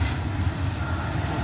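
A mixed freight train out of Roseville rolls past on the second track in the Sierra Nevada, a steady, close, low rumble of wagons with no letup and no voices.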